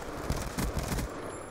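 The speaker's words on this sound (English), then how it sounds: "I shot him over and over again" Rapid gunfire from Black Ops 2 in Gun Game mode crackles in a dense, loud burst of repeated shots lasting about a second, then fades into a quieter background.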